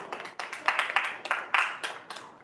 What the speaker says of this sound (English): Let's give it one last round of applause for Yext for donating the space and the BentoML team for organizing.